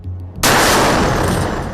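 A sudden loud blast erupts near live news cameras in Gaza, a sharp bang followed by a long roaring rumble of debris that stays loud to the end, after a brief quieter stretch.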